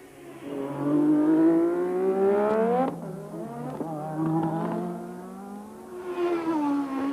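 A Formula 1 race car at Spa-Francorchamps screams past with a rising, then falling engine note, followed by more cars passing loud and near with sweeping pitch changes.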